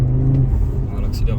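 An Audi RS3 8Y on an open road leaving Circuit Paul Ricard, giving a short burst of loud, close engine roar that rises briefly before settling into a rumble.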